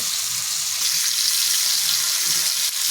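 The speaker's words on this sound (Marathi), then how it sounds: "त्याला दोन्ही बाजूने आपण एक शिजून घेऊया छान असं क्रंचीपणा येईपर्यंत आपल्याला ते शिजवायचे" Fish pieces fry crisp in a hot pan, a steady dense sizzle and crackle running without a break for the whole stretch, loud and close, with no voices over it.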